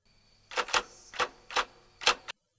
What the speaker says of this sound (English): we cut to Mr. Jordan, who's using a typewriter